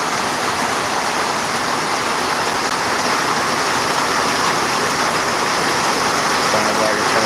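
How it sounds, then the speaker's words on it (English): Heavy rain pours down on a covered patio, a dense, loud, unbroken hiss filling the whole stretch with no pauses. "The beautiful sounds of the rain."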